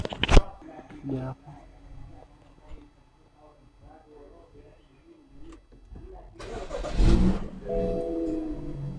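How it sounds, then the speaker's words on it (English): BMW car engine cranking to life and then revving, a brief start burst followed by rising engine roar later on, with people talking over the quieter stretches. "So I think we can now power up the engine."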